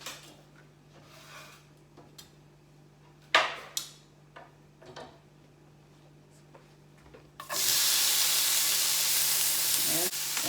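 Olive oil and vegetables hit a hot skillet with a sudden loud, steady sizzle that runs on without a break, after a stretch of quiet kitchen clatter and knocks.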